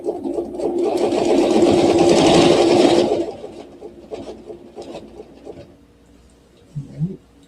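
Sewing machine stitching a quilt panel with a Baptist fan pattern: a steady close mechanical whir for about three seconds that then stops, followed by quieter handling sounds and brief talk.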